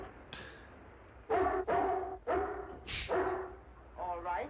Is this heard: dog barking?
yes